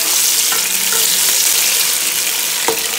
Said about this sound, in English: I'm going to add this now to the hot palm oil, which is already on fire